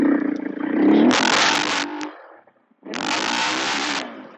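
A Husqvarna FE501 motorcycle engine revs hard in third gear, a loud close roar that climbs, cuts off briefly into near silence, then surges again at full throttle.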